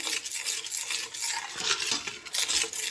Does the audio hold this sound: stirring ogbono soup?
yes